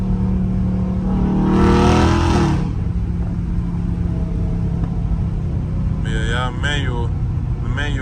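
Dodge Charger Scat Pack with a manual gearbox pulling hard, its engine roaring loudly up through the revs in a brief, intense burst before settling into a steady rumble, with voices talking briefly near the end.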